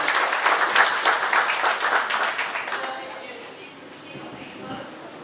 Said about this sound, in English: so let's all have a big round of applause for Judge Smith as he comes up.